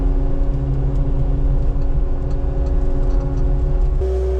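A CAT 259D3 skid steer's diesel engine runs steadily at moderate revs while clearing snow, a loud, constant rumble with a hum that drops in pitch near the end.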